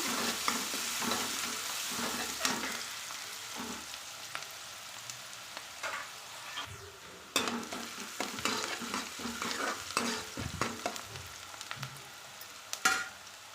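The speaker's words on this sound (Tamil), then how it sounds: "வெங்காயம் நல்லா வணக்கிக்கலாம்" Steady sizzling of chopped onions sautéing in a pan for meal maker chukka, with intermittent scraping and stirring clatters, close and continuous with no voices.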